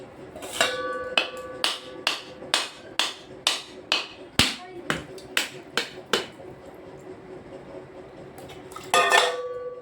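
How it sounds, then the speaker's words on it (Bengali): A coconut is struck repeatedly with a hard tool to crack it open. About a dozen sharp, evenly spaced knocks ring out close by, followed by a pause and then a final clattering hit. "আর একটাও নারকেল কোড়ানো হয়ে গেল এটাকেও ফাটিয়ে দেখি"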